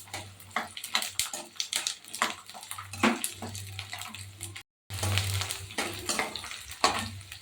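Garlic sizzles and crackles in oil in a pan with scraping stirs and a low steady hum, briefly cutting out midway, no talking.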